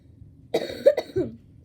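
A person coughs three times in quick succession, close and fairly loud, with a short harsh burst in each cough and nothing else heard.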